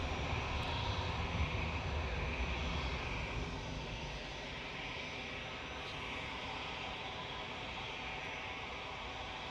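A Boeing 787 Dreamliner at Manchester Airport makes a steady, broadband jet engine rumble at moderate distance, fading slightly after the first few seconds and then holding even.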